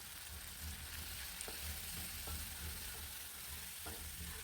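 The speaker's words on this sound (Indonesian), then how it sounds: "Selanjutnya semuanya diaduk dulu ya supaya tercampur merata seperti ini." Egg balado sambal being stirred in a pan, with steady frying sizzle and soft scraping stir strokes throughout, close and moderately quiet, no talking.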